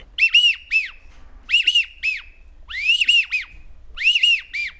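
A hand-blown whistle imitating a widgeon duck call gives four bursts of squeaky, two- and three-note whistles with short pauses between them. The sound is clear and close with no voices.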